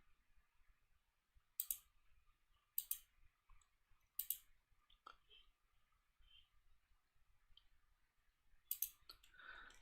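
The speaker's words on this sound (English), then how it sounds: "so everybody should be able to hear OreoByte clacking away on the keyboard" Keyboard typing heard faintly at a distance, with sparse scattered clacks and a few sharper key clicks spread irregularly across the stretch, over a quiet background.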